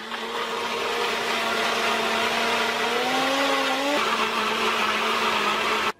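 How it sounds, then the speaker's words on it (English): A blender whirring through coconut milk ice cream, a loud steady motor whine that climbs in pitch, drops sharply, then runs on until cutting off abruptly. "Let's pop it on to blend."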